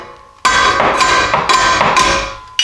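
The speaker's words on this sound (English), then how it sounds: "just take your hammer and pound in these tabs as much as you can with it in the way" Hammer pounding metal clamp tabs on a Jeep add-a-leaf spring pack, a series of loud, ringing metallic blows roughly every half second, close and unaccompanied by talk.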